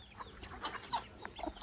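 Chickens clucking in a rural village yard in Arunachal Pradesh, soft scattered clucks and short calls, faint and somewhat distant against light background noise.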